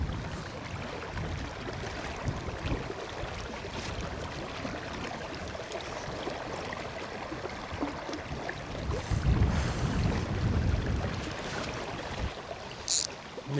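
Wind gusting on the bank of the River Vyrnwy on a windy afternoon, a continuous loud, broadband rush buffeting the microphone, swelling midway, with moving water blended underneath.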